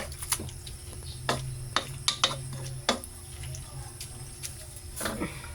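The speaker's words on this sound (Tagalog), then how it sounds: "So, atin na siyang hahaluin natin yan hanggang sa maging okay siya." A utensil stirs pancit bihon rice noodles in a cooking pan, making scattered scrapes and sharp clicks against the pan at an uneven pace over a low background hum.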